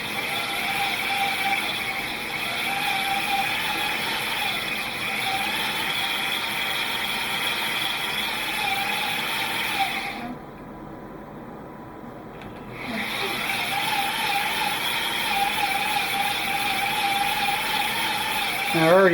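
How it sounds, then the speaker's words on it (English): A rigid cylinder hone scrubbing back and forth inside a vintage McCulloch kart engine cylinder lubricated with WD-40, a steady close abrasive rasp that breaks off briefly midway, then resumes under occasional talk. "Takes a little practice to work this back and forth and get the right crosshatch pattern."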